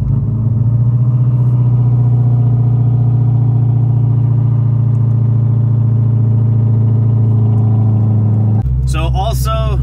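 The engine of a modded Dodge Hellcat idles with a loud, steady, deep droning rumble, then shifts abruptly near the end as the car begins to pull away.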